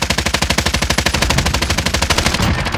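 Automatic gunfire rattles in the shooter game Modern Warfare during a Search and Destroy match, a loud, close burst of rapid, evenly spaced shots that runs almost without pause.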